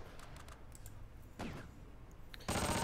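Automatic weapon fire in the WWII tactical game Close Combat: Panthers in the Fog, with a Panzergrenadier unit defending the Wolf's Lair; scattered faint shots build into a muffled burst, then a loud sustained close volley at the end.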